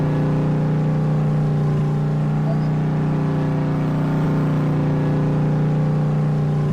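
A truck engine with no muffler idles in the field. It gives off a loud, constant, deep drone with a strong steady hum and no breaks, and no one talks.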